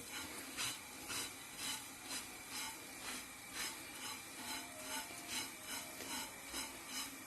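Cumin and coriander seeds roasting in a pan, a faint rhythmic scraping and rustling repeating about every half second as they are stirred.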